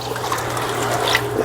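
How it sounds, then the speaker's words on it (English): Tap water runs steadily at a kitchen sink while beauty berries are rinsed, a close continuous splashing trickle with no talk. "we'll wash them and get them ready to start cooking"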